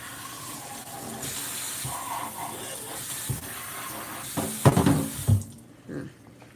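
Water runs from a tap into a sink during a vacuum cleaner cleaning session, a steady broadband flow that continues, then swells with louder splashing and gushing near the end before cutting off.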